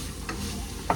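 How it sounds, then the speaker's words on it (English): Sausage cooking in a pan gives a soft, steady sizzle with a couple of brief clicks or pops over about a second, heard alone at a moderate distance. "So while my sausage is still cooking,"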